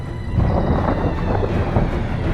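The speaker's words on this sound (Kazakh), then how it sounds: "ол жай ғана жаңбыр емес, найзағай болатын сияқты" Cartoon thunder from the animated series Turbozavry rolls as a dense, continuous low rumble with a noisy, windy texture, moderately loud and steady for the whole stretch.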